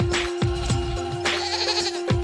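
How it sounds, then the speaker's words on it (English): An ibex, a wild mountain goat, bleats in several short, wavering calls over a steady, sustained tone. "Ibex, a type of wild mountain goat."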